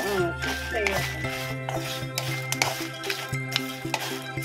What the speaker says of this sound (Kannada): ಕರಿಬೇವು ಸೊಪ್ಪು ಕೂಡ ಚೆನ್ನಾಗಿ ಫ್ರೈ ಆಗಿದೆ